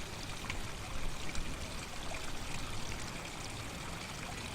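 A clear forest stream flows in a steady, broadband rush and trickle, continuous and even throughout, with no voices.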